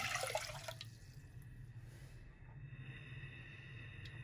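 A glass of water poured into a pan to start a jaggery syrup, with a brief splashing pour at the start that fades into a quiet kitchen hum.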